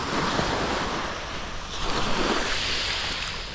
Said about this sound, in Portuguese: E aqui estamos, na beira da praia.